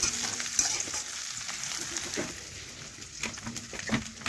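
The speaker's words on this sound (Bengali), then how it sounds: "কড়াইয়ের মধ্যে তেল দিয়ে পেঁয়াজ কুচি দিয়ে দিয়েছি পেঁয়াজটা একটু লাল লাল ভেজে নিচ্ছি" Chopped onions fry in oil in a wok, a quiet continuous sizzle broken by scraping stirs and light taps of a spatula.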